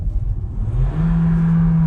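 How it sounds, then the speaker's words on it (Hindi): The engine of an MG Hector Plus seven-seater SUV swells from a low rumble into a steady rising drone under acceleration, heard loud and close from inside the cabin with no talking. "सो यहाँ पे थोड़ा सा ज्यादा इंजन नॉइज आपको सुनने को मिलेगा"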